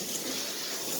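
Shower water runs steadily with no water heater, a dense, even hiss of spray that fills the whole moment without breaks.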